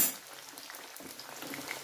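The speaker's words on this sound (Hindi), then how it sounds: "कटहल को हम गोल्डन ब्राउन होने तक का फ्राई करेंगे और इसे स्लो फ्लेम पर ही फ्राई करेंगे" Jackfruit pieces fry over a slow flame with a steady, soft sizzle and light crackle, and occasional faint utensil scrapes on top.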